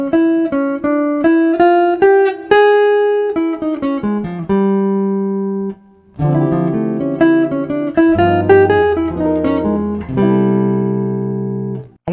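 Jazz guitar plays a single-note line stepping up the D Dorian scale, then moves into a lick over a minor chord. The notes are clean and picked, with a short gap midway, and no one talks.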